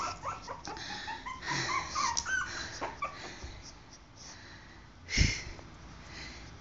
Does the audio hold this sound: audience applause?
no